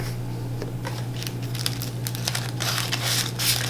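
Munchkin coffee sticker sheets being pulled out and handled, with steady papery crinkling and rustling throughout over a low constant hum, close and moderately loud, no talking.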